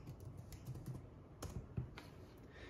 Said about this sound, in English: the quickest way is just to type the word software